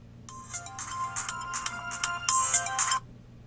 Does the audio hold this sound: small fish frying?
no